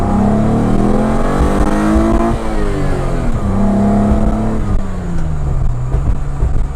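Ford Escort XR3 fitted with a Mazda V6 engine revving hard, a loud, close, continuous roar whose pitch climbs, dips and climbs again through the revs, heard alone without talking.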